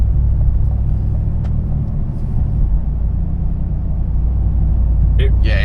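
A Chevrolet Colorado ZR2 pickup with an AWE true dual exhaust drives at low speed, heard from inside the cab as a steady deep rumble with a brief higher sound near the end.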